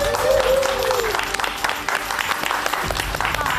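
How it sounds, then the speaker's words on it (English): Studio audience applause on the I'm a Celebrity set greets Sheryl Gascoigne after her jungle exit, a dense, loud wash of clapping and cheering under a whoop and a brief voice. "Give her a massive round of applause, Sheryl Gascgoine!"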